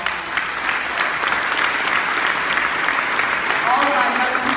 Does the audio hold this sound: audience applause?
yes